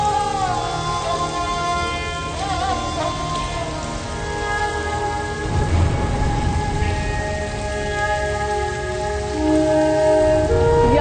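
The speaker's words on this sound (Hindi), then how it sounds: "आज ये बारिश ना थमे और तेज बारिश हो।" Steady heavy rain falls without a break, a dense close patter on surfaces with a few droplets standing out. A musical score plays over it and there is no talk.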